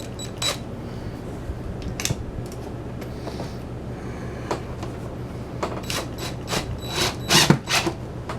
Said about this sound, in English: we'll go ahead and bolt this sucker down